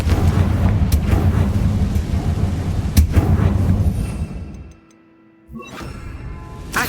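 A Confringo fire-blast spell in the game Hogwarts Legacy sets off a heavy rumbling explosion with booming low impacts. It fades to near silence, then a sharper crackling burst follows.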